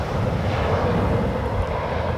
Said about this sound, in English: the sound you're hearing is an all-white Embraer 190 touching down here